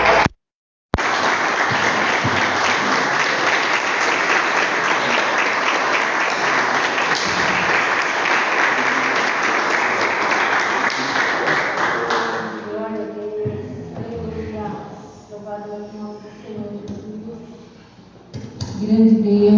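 A church congregation claps in praise during a worship service, a loud, dense wall of applause lasting over ten seconds that then stops abruptly, giving way to a voice speaking and singing.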